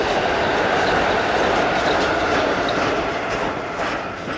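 A train rolls across a bridge near a surf beach and creek, a loud, steady rumble of wheels on rails close by, with faint clacking that eases slightly toward the end.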